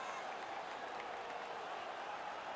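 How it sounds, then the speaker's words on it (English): A stadium crowd cheers and applauds in an NHL EASHL hockey video game after a fight on the ice, a steady, distant roar at low level that holds evenly without any single voice standing out. "And the crowd back alive here inside the stadium."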